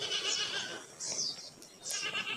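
Sheep bleat in three wavering, nasal calls, one near the start, one around the middle and one near the end, clear and close with no talking over them.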